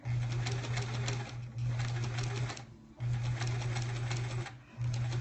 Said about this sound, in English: I have to concentrate so much more now when I'm sewing compared to how I used to